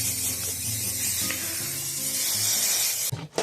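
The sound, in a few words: spray can spraying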